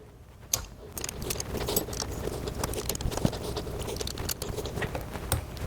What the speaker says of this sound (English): directions tell you to tighten these up with the included Allen wrench